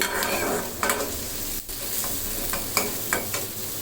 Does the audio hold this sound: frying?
yes